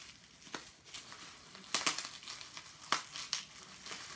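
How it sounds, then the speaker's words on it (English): Bubble wrap packaging around an online stationery order is crinkled and handled in short, sharp bursts of crackling, close and moderately quiet, with brief pauses between bursts. "So it came wrapped in bubble wrap. Let me see if I can open it like this"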